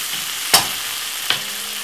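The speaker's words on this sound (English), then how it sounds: "So now this is fried off." Onions frying in a pot with a steady low sizzle, broken by two brief scraping stirs about a second apart, close and with no voices.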